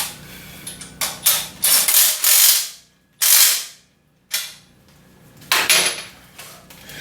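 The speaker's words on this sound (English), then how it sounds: "I would crank down the bottom bolt first" A wrench tightens the bottom bolt of a Mow and Go Systems swing arm bracket, making loud, close bursts of metallic ratcheting clicks in repeated strokes separated by short pauses, with no talking.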